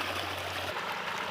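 Water drains steadily out of a brinjal field after fertilizer is stirred in, a continuous rushing, trickling flow close by, with a low hum in the first half and no speech.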